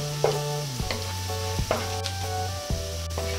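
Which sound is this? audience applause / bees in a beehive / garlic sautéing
garlic sautéing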